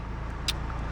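A VW GTI MK7 engine idles after start-up, a steady low rumble filling the short moment with a faint brief click in the middle and no talking.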